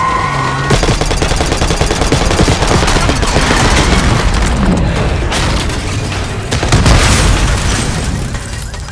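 Gunfire in the video game Call of Duty Black Ops 6, loud rapid automatic bursts and booming shots layered continuously, with heavy impacts and a dense, chaotic battle texture throughout.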